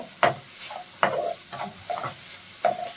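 Tomato and tamarind frying in oil for a tamarind leaf chutney, with a soft steady sizzle broken by several distinct scraping strokes of a spoon stirring the pan, close and clear.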